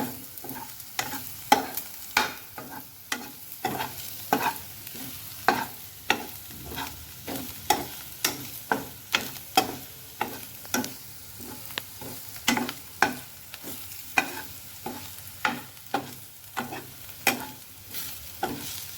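Curry leaves fry and sizzle in a pan at home while a spoon stirs them in a steady, repeated scraping rhythm, with a low continuous hiss underneath and no voices.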